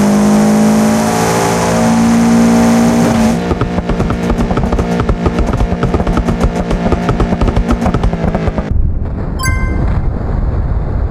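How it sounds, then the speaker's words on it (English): A Subaru Impreza in a racing video game revs hard, its engine note climbing steadily before shifting into a loud, rapid buzzing drone, then cutting off abruptly as a few bright tones chime at the end. "Subaru Impreza made a very classy jump and reached the finish line by jumping over 100 containers without any problems"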